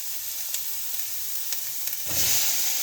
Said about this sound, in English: Can we put the tomatoes in there, please?